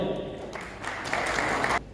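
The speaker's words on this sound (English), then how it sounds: "another round of applause for our volunteer" An audience at a magic show in Cape Town gives a short burst of clapping for a volunteer, rising after a moment and cutting off abruptly, with some talk underneath at the start.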